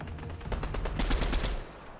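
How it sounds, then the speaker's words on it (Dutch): Enemy gunfire in Fortnite Chapter 3: a quick burst of rapid shots, about eight sharp cracks in a second, fairly close over a low game background. "En hij schiet ook."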